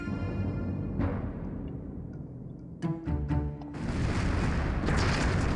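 Ship cannons fire during a sea battle in Tortuga: Pirates of the New World, several quick booms in a cluster midway followed by a loud, sustained roaring wash of noise.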